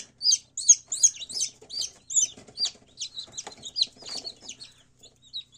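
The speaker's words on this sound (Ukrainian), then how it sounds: "Пройшло декілька годин і на світ з'явилися ще курчатка" Newly hatched chicks peep rapidly in a busy, high-pitched chorus of short chirps, close by and continuous.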